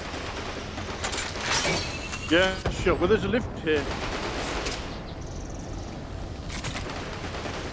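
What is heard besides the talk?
gunfire in the VR video game Stormland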